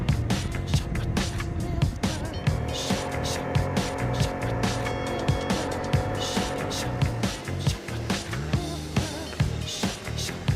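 The small motor of a moped runs in the village of Rijs in Friesland, a close, steady, buzzing putter with faint rhythmic knocks.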